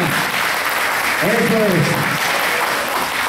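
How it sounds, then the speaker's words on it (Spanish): Audience at a Mexican folkloric ballet Mother's Day fiesta in Port Arthur, Texas, applauding in a dense, steady wash while someone speaks briefly over it. "Un aplauso para mi hijo"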